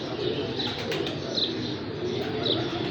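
Pure-bred pigeons coo softly in a loft amid a busy, muffled room hum, with a few faint chirps and rustles over a steady background.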